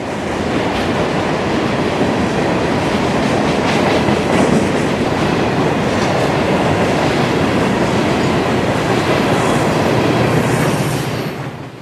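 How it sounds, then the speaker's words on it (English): A long FEC freight unit train rumbles steadily past close by in Fort Lauderdale, Florida, a continuous loud roar with faint rhythmic clatter from the wheels and no voices. "FEC Train 335, the southbound City Point to Miami unit train, rolls through Fort Lauderdale"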